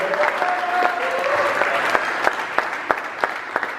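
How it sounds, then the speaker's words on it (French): A church congregation applauds during a worship service, a steady wash of clapping with sharper individual claps standing out near the end, while a held voice or tone sounds faintly early on. "Nous allons nous lever, nous allons applaudir, criant dessus les cris de joie pour ce Dieu-là."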